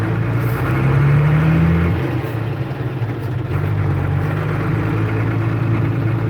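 Chevrolet C70 truck, an old beat-up work truck with broken-out windows, engine running with a steady deep rumble and a brief rise in revs, close and loud.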